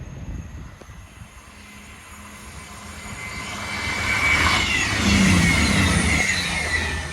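A passenger train from Birmingham New Street to Edinburgh Waverley passes at South Wingfield, its rumble and wheel noise swelling from a distant approach to a loud, close roar.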